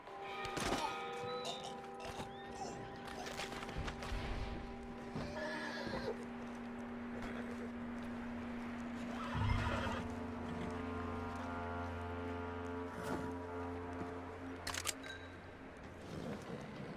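A horse in the Red Dead Redemption 2 video game neighs and snorts close by amid clip-clopping hooves and clattering game sounds.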